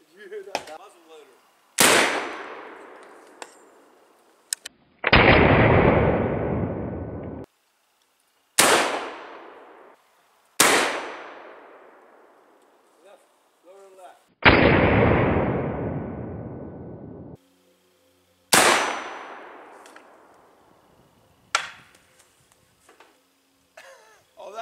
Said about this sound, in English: Did you hear that? That muzzle loader.